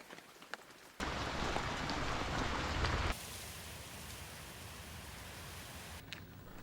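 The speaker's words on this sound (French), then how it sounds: "cette 9e journée sera surtout synonyme de pluie et de vent" Heavy rain hisses loudly and steadily in the Alps or Jura mountains, with gusty wind noise shifting in strength; no voices.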